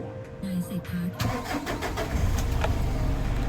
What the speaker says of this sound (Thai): ก็เดี๋ยวผมจะลองสตาร์ทเครื่องยนต์นะครับ ลองฟังเสียงกันดู